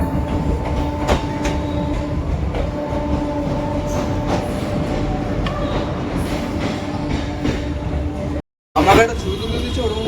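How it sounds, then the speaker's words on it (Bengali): A passenger train pulls into a station platform and runs past after a long delay, a steady rumbling roll with squealing tones, close and loud, with people talking over it and a brief dropout near the end. "ট্রেন কাকা আমাদের চলে এসছে।"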